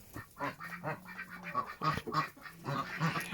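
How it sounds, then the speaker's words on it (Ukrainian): Young brown drakes and ducks quack on a farmyard, a run of close, nasal quacks and honking calls overlapping irregularly at moderate level with brief pauses between bursts. "А це все коричневі гляньте які. Качори. Качечки молоденькі такі."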